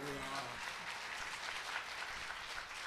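A church congregation at a Korean full gospel church in New York claps together in steady, dense applause that fills the room for the whole stretch, with a few voices mixed in.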